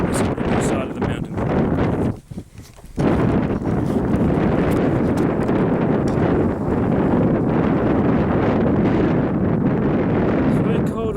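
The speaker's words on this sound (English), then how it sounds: "It's very cold and windy up here." Strong, constant wind roars and buffets the microphone on a cold Pennsylvania mountain top, dipping briefly before surging back. A voice may be faintly present under the rush.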